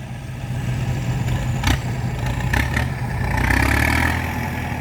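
A farm tractor runs in a muddy rice field, its engine giving a continuous low rumble at close range with a few brief louder surges.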